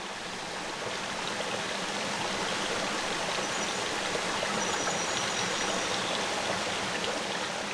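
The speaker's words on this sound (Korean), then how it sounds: "세찬 물소리가 저만치서 들려옵니다" Rushing stream water in a mountain valley, a steady broad roar heard from a short distance, unbroken and even throughout.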